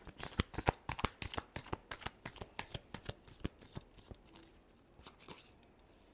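Tarot cards being shuffled close by, a quick regular run of crisp riffling flicks that softens and slows toward the end, with no voice over it.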